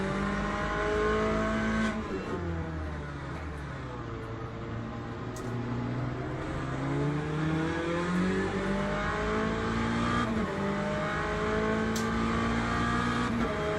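A Lola T70 MkII Spyder with a Ford engine races around Road America in a racing game, its engine revving loudly and continuously, rising and falling through gear changes.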